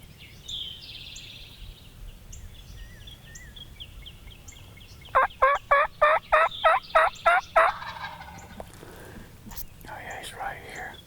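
A wild turkey hen calls from far off in the woods, a sharp run of about nine evenly spaced yelps in the middle, with hushed whispering before and after.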